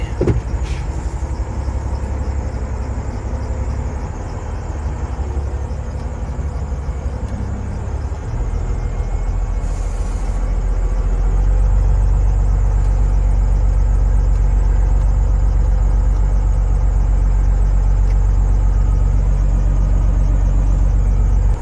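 A truck engine idles and then revs up as the driver pulls away, a steady low rumble that grows louder and fuller partway through and holds there to the end.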